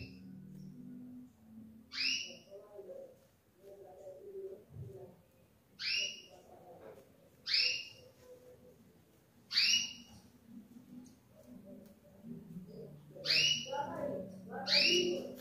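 Blue grosbeak (azulão) songbird kept as a breeding bird, with bright whistled call phrases repeating at irregular intervals over a low background murmur of softer sounds.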